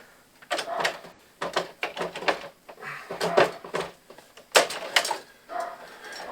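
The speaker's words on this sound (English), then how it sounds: "We're going to pop this breaker out of here." Repeated clicks, snaps and scraping clatter come from a circuit breaker being worked loose and pulled from a home electrical panel, in irregular bursts up close with short pauses between.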